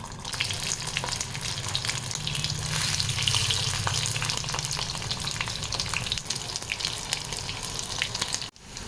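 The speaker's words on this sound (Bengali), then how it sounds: "তেল গরম হয়ে গেছে বন্ধুরা, এবার এক এক করে আলুগুলো দিয়ে দিচ্ছি।" Small boiled potatoes frying in hot oil, a loud, dense, continuous sizzle close up that holds steady, then cuts off sharply near the end.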